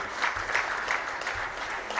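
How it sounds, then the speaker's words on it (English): Audience applause for a minister at a World Tourism Day 2021 event, a brief, even patter of clapping heard at moderate volume through a public-address recording, with no voices over it. "give Honorable Minister a much more befitting round of applause"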